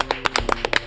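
A few people clap briefly to welcome a guest joining by phone, giving quick, close hand claps in an irregular burst under a faint hum.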